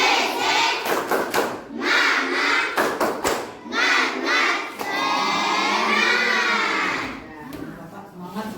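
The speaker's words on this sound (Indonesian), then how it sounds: "Coba semuanya kita tepuk semangat terlebih dahulu." A class of schoolchildren does a rhythmic clapping cheer, bursts of quick group claps and loud shouted chanting filling the room, sustained crowd voices rising in the middle before fading.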